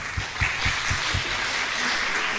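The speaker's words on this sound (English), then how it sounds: "Thanks to my panel. Big applause." Applause from an audience at a European science academies symposium thanks a panel, a moderate steady clapping with some heavier low thumps early on, continuing throughout.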